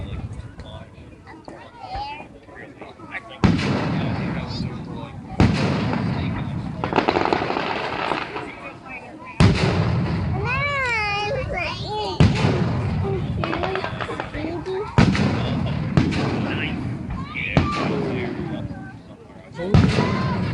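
A July Fourth fireworks display bursts overhead in a series of sharp booms and crackling trails spaced a few seconds apart, while nearby spectators talk and cheer between the blasts.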